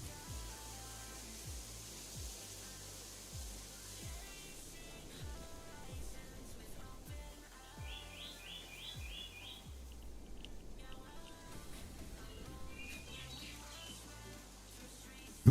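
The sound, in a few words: birds chirping in video game BitCraft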